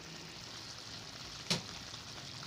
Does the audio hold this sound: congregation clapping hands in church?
no